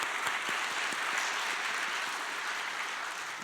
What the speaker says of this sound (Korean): 우리 박수 한번 우리 치겠습니다.